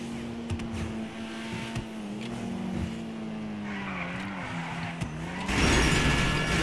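A Volkswagen Golf Mk1-styled BF Club compact car in GTA 5 Online drones along at a steady engine pitch, shifting up and down, with tire squeals and a louder burst of noise near the end.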